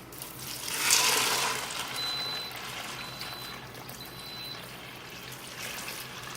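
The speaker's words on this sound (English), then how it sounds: "start pouring the water in" Water pours into a pot with a rushing splash that swells early then settles into a softer steady trickle, close by, no talking.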